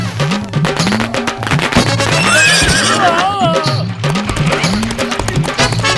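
Cartoon horse neighing loudly with a wavering whinny in the middle, over steady clip-clopping hooves and busy background music; a voice is briefly heard.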